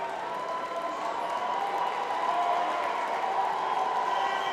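A big stadium crowd at the GTEC Community Stadium during the Jamaica vs Nigeria Unity Cup soccer final sends up a steady, even wash of applause and cheering, a continuous roar from a distance with no clear voice on top.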